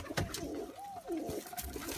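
A pigeon or dove gives a soft, close coo with a rising and falling tone, set against quiet outdoor background noise.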